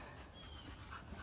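A dog pants steadily at close range, a continuous breathy rhythm with no voices over it, during an e-collar training session with two dogs.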